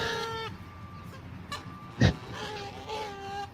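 Geese honk and squawk in alarm while guarding their goslings from a hawk overhead, with harmonic calls scattered across the clip and one sharp loud burst near the middle.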